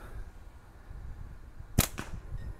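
A slingshot band released for a shot, one sharp loud crack close by, followed a moment later by a fainter second snap, against quiet outdoor background.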